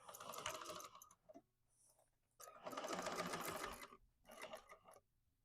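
Home sewing machine back stitching and running along the seam of a large fabric tote bag, in several close, loud bursts of fast whirring with short pauses between them.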